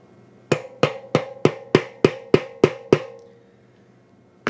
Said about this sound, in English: Take our mallet and gently hammer it back in